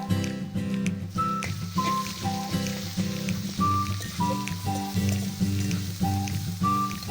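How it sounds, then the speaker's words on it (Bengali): Garlic paste frying with browned onions in a pan on a clay stove while cooking rohu fish curry, a soft, steady sizzle with rhythmic stirring and faint tonal hum throughout. "পেঁয়াজ আমার লাল লাল করে ভাজা হয়ে গেছে, এখন দেব রসুন বাটা"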